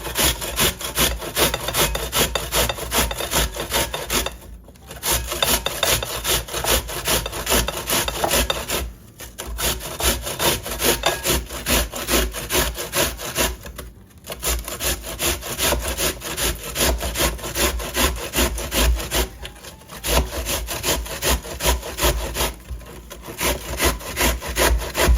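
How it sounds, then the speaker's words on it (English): One medium onion is grated straight onto 93% lean grass-fed ground beef, making a close, steady, rhythmic rasping of quick strokes, broken by short pauses about every five seconds. "just starting with grating the onion on the meat"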